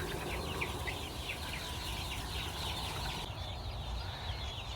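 Flock of chickens settled on a farm roost, clucking and chattering continuously in a steady, busy chorus with a constant low background rumble.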